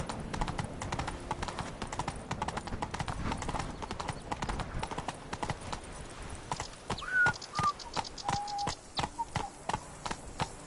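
Horse hooves clip-clopping in The Witcher 3 video game: a steady, close, rhythmic trot of hoofbeats that continues throughout, with a few brief voice sounds in the middle.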